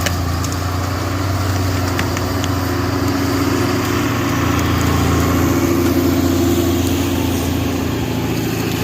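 A log skidder on a farm dragging logs with a chinkapin oak and a walnut in the grapple, its engine running with a constant, loud, close mid-to-low drone.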